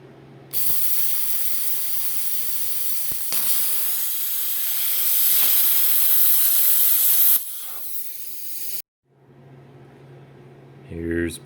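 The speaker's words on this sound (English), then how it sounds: "Cut this up and weld it on there." Scrap steel cut and welded into patch pieces for an auger repair in a workshop: a loud, steady hissing roar runs for about eight seconds with a brief dip, then fades to quieter noise before a short clunk at the end.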